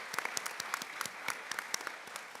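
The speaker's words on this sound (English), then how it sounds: "before we give our panelists a round of applause" An audience at a panel discussion on women in politics applauds the panelists, a faint, steady patter of distinct claps heard from a distance with no talking.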